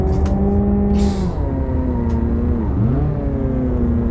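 A Peugeot car engine in BeamNG.drive hums steadily at close range with gear-like shifts in pitch, rising and dropping as it drives.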